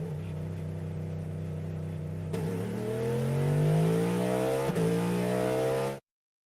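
A GTP-class race car engine in iRacing revs up with rising, whining tones, dips briefly, and climbs again in a loud, close run before cutting off abruptly, with no voices.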